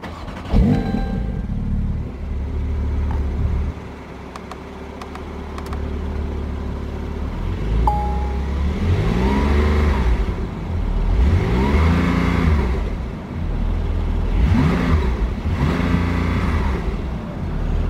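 A 2023 Porsche 911 (992) Turbo S Convertible starts with a sharp burst and settles into a steady idle. It then revs in several rising and falling sweeps up to its 3,500 RPM limiter, loud and close.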